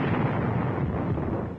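A shell explosion striking a tank in a 1942 North Africa newsreel, a loud sustained rumbling blast that fills the moment and fades slightly at the end, with no voice.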